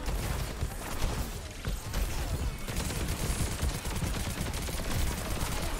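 Reaper's Death Blossom ultimate in Overwatch 2 roars as a dense, continuous barrage of rapid shotgun blasts, loud and unbroken for several seconds amid chaotic match noise.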